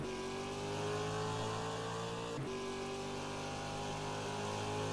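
Race car engine at the Shanghai circuit in a racing video game, a loud continuous high-revving whine with a brief dip at a gear change midway.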